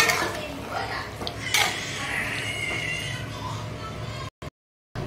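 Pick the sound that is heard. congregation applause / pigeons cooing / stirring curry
stirring curry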